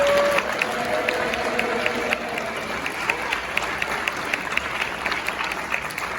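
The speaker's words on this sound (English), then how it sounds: "Can we give him a round of applause?" Steady applause from a district choir concert audience fills the hall, a dense, continuous clapping that stays level and fairly close throughout, with a faint held tone fading in the first moments.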